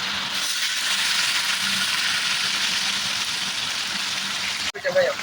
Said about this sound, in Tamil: வெங்காயத்தை போட்டு நல்லா பொன்னிறமாக வர்ற அளவுக்கு வதங்க விடுற அளவுக்கு நல்லா கிண்டிக்கிட்டே இருக்கணும்